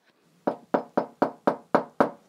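Seven sharp, evenly spaced cartoon-style knocks on a door, loud and close, rapping in a steady rhythm with nothing else around them.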